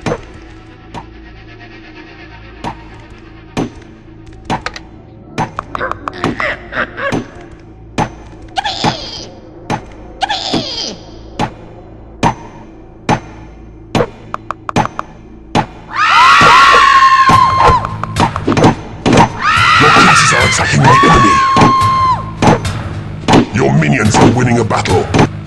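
Creatures clash in a battle in the video game Dungeon Keeper, with repeated sharp bangs and thunks sounding at irregular intervals. Crowd-like shouts and screams swell midway and keep going, loud and busy.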